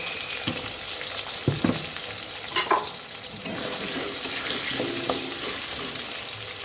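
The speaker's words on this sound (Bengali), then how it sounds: "অল্প করে একটু নুন দিয়ে দেব, দিয়ে আমি আলুটা ভেজে নেব।" Potato pieces coated with turmeric and salt fry in oil with a constant hiss, and a utensil stirring in the pan adds scattered scrapes and knocks.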